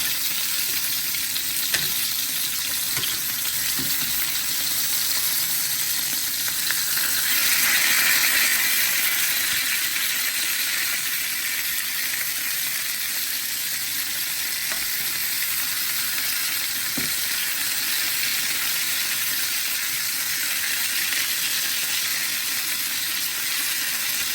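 Ingredients fry in hot oil in a pan, a loud, continuous close sizzle that holds steady for a long stretch with occasional faint clicks of stirring.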